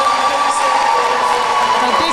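A crowd cheering and whooping at an under-17 netball championship presentation ceremony for England's win, a sustained loud mass of voices with high shouts throughout.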